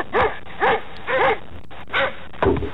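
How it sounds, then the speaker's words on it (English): Tame dog barking from a played recording, five short evenly spaced barks with a slightly muffled, band-limited tone, fairly close and alone. "they have a tame dog as opposed to a wild dog."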